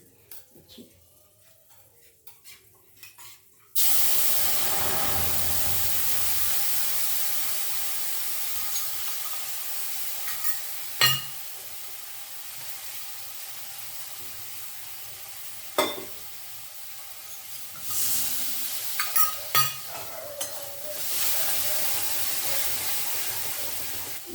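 Spice paste loosened with water is poured into a hot pan for a Bengali fish curry with mustard leaves. After quiet handling it suddenly bursts into a loud, steady sizzle, with a few sharp stirring knocks and scrapes, close up and without speech.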